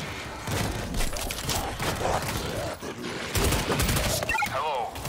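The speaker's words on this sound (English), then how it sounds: "We're hearing gunfire from the river" Bursts of gunfire crackle through a busy battle scene while voices shout over them; several distinct shots stand out near the end, in the video game World War Z, Moscow level.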